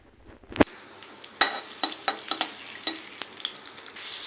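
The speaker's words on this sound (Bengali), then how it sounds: "এখানে আমি তেলের উপরে রসুন আর পেঁয়াজ দিয়ে দিচ্ছি।" Garlic and onion drop into hot oil for a taro-leaf dish, giving a sharp hiss followed by a steady close sizzle, punctuated by several light scraping stirs and clicks of a utensil against the pan.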